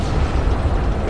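A rocket explosion in the military shooter ArmA 3 lands as a brief, loud, deep booming rumble that fills the low end and fades within about a second.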